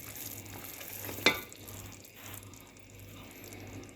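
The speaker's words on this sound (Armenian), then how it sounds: "հիմա նայեք արդեն սիրոպը եռում է" Strawberry sugar syrup comes to a boil for candied fruit, giving a faint, steady bubbling hiss close by, broken once by a brief sharp click.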